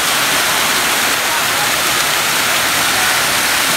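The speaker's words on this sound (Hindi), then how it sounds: "artificial waterfall" Artificial waterfall in the park at Beleswar Temple, Bhanjanagar, giving a steady, loud wash of falling water that holds an even roar throughout with no pauses.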